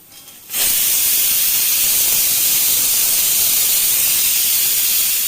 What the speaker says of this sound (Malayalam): ഇതിലേക്ക് ഞാൻ ഒരു നാല് വലിയ സവാള അരിഞ്ഞതാണ് ഇത് ഇട്ട് കൊടുക്കാം